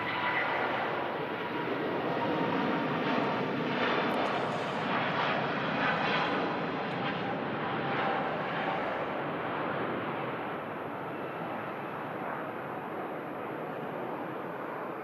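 An Airbus A350 jet takes off at Manchester Airport, its engines producing a loud, steady broadband roar that slowly eases in level, with no talk.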